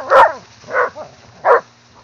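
A dog barks three times in quick succession at moderate distance, with a faint whine between barks, during a hunt right after a wild pig has been killed.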